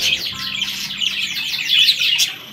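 Close, bright chirps and twitters from a budgerigar as a ring is slipped onto its leg, a quick run of high tweets building slightly louder toward the end, with no talking.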